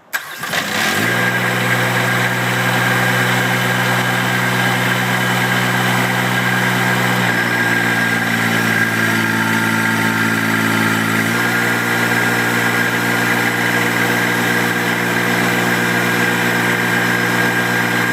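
A VMAC RAPTAIR60 air compressor starting and then running steadily, a loud continuous engine-like drone and hum whose pitch shifts slightly a couple of times as the load changes.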